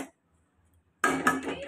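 Pots and pans clatter in a home kitchen as a fry is set on the stove: a brief, close metallic rattle follows near silence.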